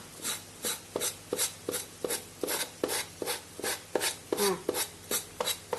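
A knife slices vegetables thinly on a cutting board while a salad is prepared. The cuts land close and crisp in a steady rhythm, about a dozen evenly spaced chops.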